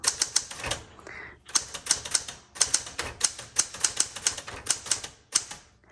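Close, crisp keystrokes from a 1973 Galaxie Twelve typewriter tap out in quick irregular bursts, with a short pause and a bell-like ding partway through, then rapid clacking resumes until the end.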